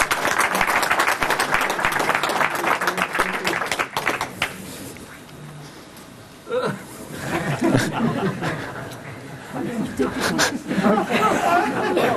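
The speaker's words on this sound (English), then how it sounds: "Give her a big applause." Applause from a seminar audience on sanitation welcoming a speaker to the podium, dense clapping for about four seconds before fading into scattered claps, chuckles and murmured chatter.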